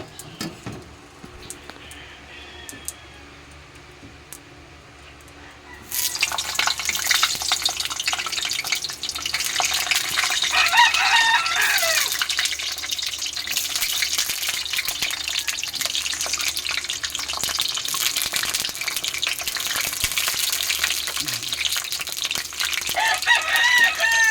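Vegetables and marinated pork for kare-kare sizzle in hot oil, a quiet stretch giving way around six seconds to loud, steady crackling frying that continues close up, with a rooster crowing in the background.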